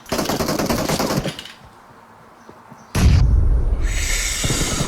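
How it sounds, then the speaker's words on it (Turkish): Automatic gunfire in the mobile shooter game PUBG Mobile comes in loud, rapid bursts, stops for a short quiet gap, then returns in a heavy booming volley, with no talking. "Boşa sıktın yani o kadar."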